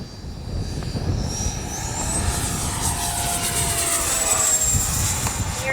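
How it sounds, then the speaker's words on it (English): A Freewing 80mm JAS-39 Gripen model jet's engine whines steadily as it makes a fast pass down a runway into the wind, with the pitch rising and shifting under a windy rush. "gonna make a fast pass down the runway"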